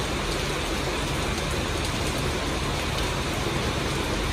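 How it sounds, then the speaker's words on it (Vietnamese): Heavy rain pours steadily outdoors near a home on a gravel-filled road, a dense, loud, unbroken hiss with no pauses and no voices. "Mưa tí tách, mưa rất chi là nhiều."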